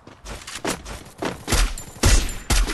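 Rapid bursts of gunfire in the video game Free Fire, several loud shots in quick succession with heavy low thumps, no voices.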